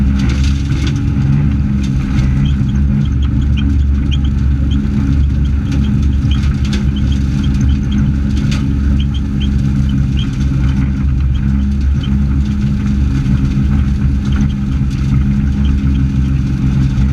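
A steady, loud tractor engine drones continuously with a low rumble as a bush hog mows tall growth, mowing sounds and rattling mixed in, no talking.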